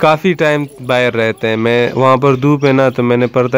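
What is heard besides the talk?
None of the usual background noises is heard.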